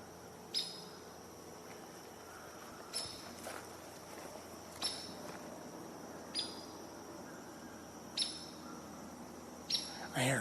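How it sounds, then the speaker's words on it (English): A chipmunk calls in the woods with sharp, high chirps repeated at roughly even intervals about every one and a half to two seconds, faint and somewhat distant over a quiet outdoor background. "I hear a chipmunk."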